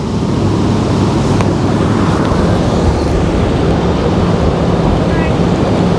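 Steady, loud wind roars and buffets the microphone aboard a boat cruising the Norfolk Broads between Loddon and Norwich, a continuous low rumble mixed with water wash, with no voices.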